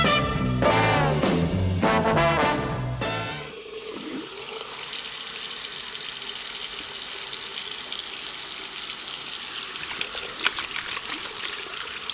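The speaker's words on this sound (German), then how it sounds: "Das war natürlich ein Wasserhahn" A water tap runs steadily in a continuous, fairly loud gush of flowing water. It follows a short burst of music at the start.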